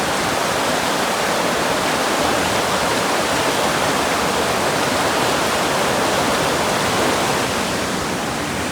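Chutes Croches waterfall, near Mont-Tremblant, heard from a bridge: a steady, loud, broadband rush of falling water that fills the whole stretch without a break.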